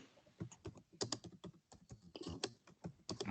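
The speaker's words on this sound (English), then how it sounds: "I hear somebody typing." Rapid, uneven clatter of fingers striking a computer keyboard, close and clear, with irregular bursts of keystrokes and short pauses, no voices over it.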